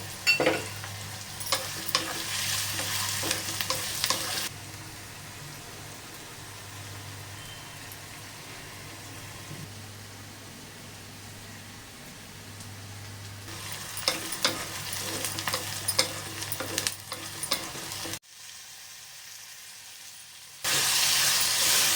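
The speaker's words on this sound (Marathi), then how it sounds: "टोमॅटो घालून छान असं परतून घेऊया" Tomato and green chilli sautéing in a pan for Mumbai street-style egg bhurji, a steady sizzle with bursts of stirring and scraping, a quieter stretch in the middle and a brief break near the end.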